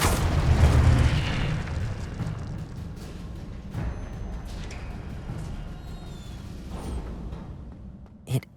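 A fire spell cast in Hogwarts Legacy: a loud booming burst at the start that rolls into a sustained crackling roar, with a few fainter thumps and a sharp pop near the end.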